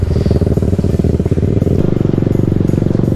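A group of motorcycles, including a Yamaha R15, an Apache 310 and an MT-15, rides along with a loud, close, steady engine drone and a rapid pulsing exhaust beat.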